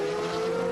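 Race cars pass through the chicane at Spa-Francorchamps during the 2008 24-hour race, giving a brief, loud engine whine with a sustained steady tone across the short moment.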